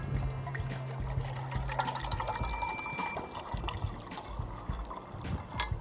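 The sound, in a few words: water pouring into a metal cup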